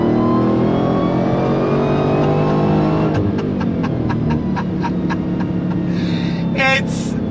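A 2023 Dodge Demon 170 muscle car with 1,025 horsepower accelerating hard on the road, its loud engine roaring and rising in pitch, then snapping through a rapid series of gear shifts toward the end.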